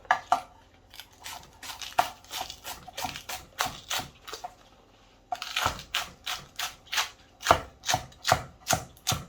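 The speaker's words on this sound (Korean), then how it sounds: "큼직큼직하게 썰어서 깔아주고요" A knife chops ingredients into large chunks for a braised kimchi and whole pork belly stew, making two runs of sharp, rhythmic cutting strokes separated by a short pause. The chopping is close and crisp, and no one speaks.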